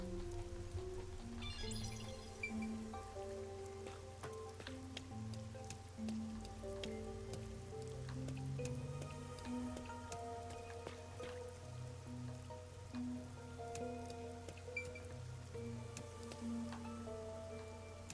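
Rain patters steadily over Kanai Ward, a huge city in the video game Rain Code, with soft drips and drops layered under sustained background music.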